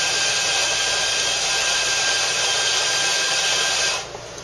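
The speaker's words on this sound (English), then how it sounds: "I've set this grinder to a finer setting, and I'm going to dose the coffee a little bit higher" Coffee grinder, set fine, grinding an 18-gram double ristretto dose: a loud, steady, high whirring drone that runs for about four seconds, then cuts off abruptly.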